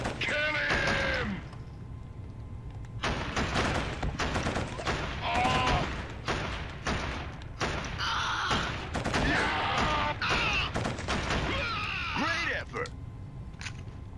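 Gunfire in the shooter Killzone, rapid repeated shots in dense clusters through most of the stretch, mixed with shouted in-game voices and battle noise, fairly loud and continuous.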